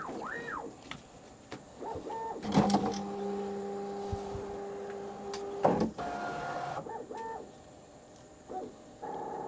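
Bambu X1 Carbon 3D printer running its calibration, with whirring stepper motors, rising and falling motor whines, sustained tones and sharp clanks, fairly quiet and close, no speech.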